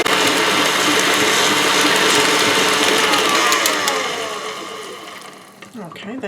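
A stand mixer with a paddle beats a low-carb chocolate hazelnut cheesecake pudding, giving a loud, steady mechanical whir with a rattling edge that eases off and winds down near the end.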